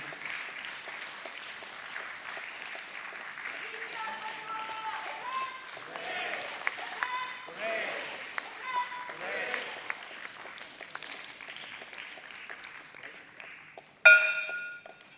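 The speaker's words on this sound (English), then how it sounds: "Another rousing round of applause" Applause fills a Bombay Stock Exchange listing ceremony for Nuvoco Vistas Corporation, a moderate, rolling clatter beneath voices and scattered ringing tones, capped near the end by a sudden bright metallic ringing burst.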